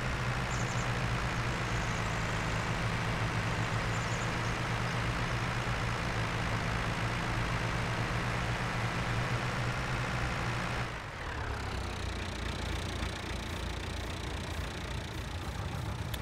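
A tractor engine in Farming Simulator 22 drones steadily at a constant idle, loud and close with no one talking, then shifts in tone near the end.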